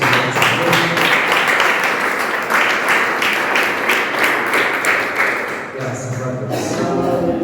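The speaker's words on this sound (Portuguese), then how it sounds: "dê uma salva de palmas para o Senhor" A church congregation claims its applause with a sustained burst of clapping, many hands beating in a dense, rhythmic patter throughout, with voices mixed in beneath the claps.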